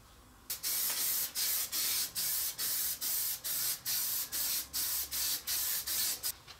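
Spray adhesive from an aerosol can is sprayed onto a wooden board in a workshop, a loud close series of about fourteen short, evenly spaced hissing bursts, each with a brief gap between, and no talking.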